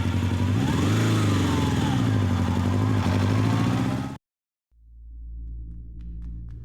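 A motorcycle engine runs loud and close for about four seconds, its pitch swelling as it revs. It cuts off abruptly, and after a moment of silence a lower, softer rumble starts up.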